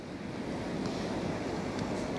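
Waves surging along the Westerschelde shore make a continuous rushing wash mixed with wind buffeting the microphone, steady and close, with no voices.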